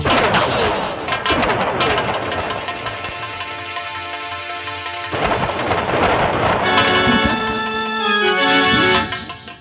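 Loud, dense bursts of gunfire and booming blasts from a Hindi nautanki folk theatre performance roll over a dramatic background score, with a brief lull midway before the barrage resumes and cuts off.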